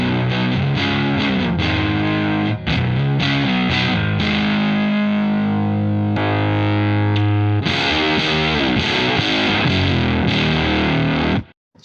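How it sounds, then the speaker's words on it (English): An electric guitar runs through an Octo Puss octave-up pedal with fuzz engaged and plays loud, harsh, distorted chords and riffs with a buzzy upper octave, strummed in bursts with a short pause before the final cutoff. "So I'm going to throw the fuzz into it so you can hear what it sounds like more realistically."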